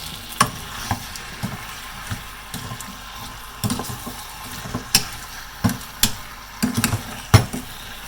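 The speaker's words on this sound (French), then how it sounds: "Je mélange pour que ça prenne le parfum de l'oignon." Pork and onion stirred in a pan over medium heat, a steady low sizzle broken by irregular scraping and clacking strokes of a utensil against the pan, fairly close.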